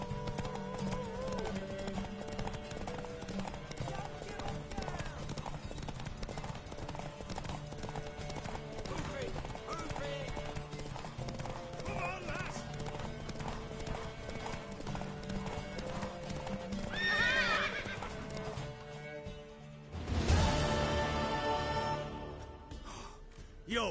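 A horse's hooves clip-clop steadily in the video game Witcher 3, with an occasional neigh. Game music and voices play underneath, and the hoofbeats surge near the end.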